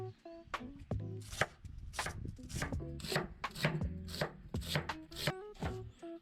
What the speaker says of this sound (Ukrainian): В чому плюс нарізання цибулі на свіжому повітрі?